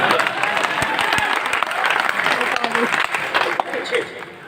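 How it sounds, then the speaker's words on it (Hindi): Loud, dense applause fills the hall at a Hindi poetry gathering (kavi sammelan), a steady sustained wash of many hands clapping together throughout, with a few sharper individual claps standing out near the start. "वैसे आप लोगों को एक बार मुंह दिखाई की तालियां भी बजानी चाहिए।"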